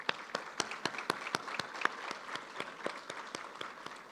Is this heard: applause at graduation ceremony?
yes